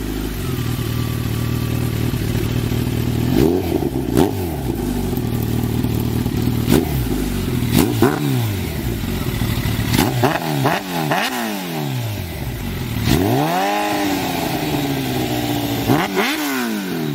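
A sport motorcycle engine revs repeatedly, rising and falling in pitch with sharp throttle blips, loud and close throughout.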